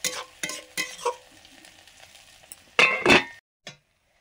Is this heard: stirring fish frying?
yes